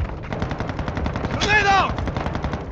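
Rapid automatic gunfire rattles in a steady burst during a Call of Duty Modern Warfare 2 DMZ match, close and loud, with a brief shouted voice rising over it midway.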